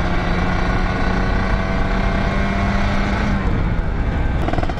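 A two-stroke motorcycle roars steadily on a road in Bandung, its loud buzzing engine note holding constant, with a faint rising whine and other traffic noise near the end.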